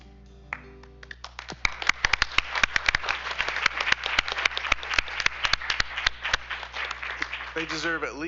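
Scattered audience clapping at a school district board meeting swells into a steady round of applause, with a steady hum underneath and a voice beginning to speak near the end.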